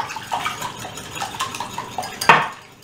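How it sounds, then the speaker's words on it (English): Eggs being whisked quickly in a bowl for choux pastry dough, with a steady run of light clattering taps of the whisk against the bowl, close and fairly loud, ending in a sharper clink. "Let me go ahead and whisk that real quick"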